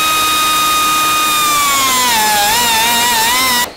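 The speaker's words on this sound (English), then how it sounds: "So let's cut some 8¾ inch lengths of threaded rod." A power saw cutting threaded rod to length, a loud steady whine that bends in pitch as the blade loads up in the cut, then stops abruptly at the end.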